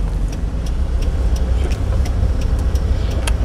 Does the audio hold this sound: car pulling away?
yes